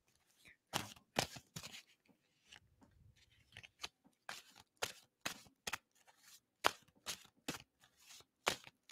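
Playing cards being shuffled at close range in repeated short, crisp riffling bursts separated by brief pauses, sounding alone without talk.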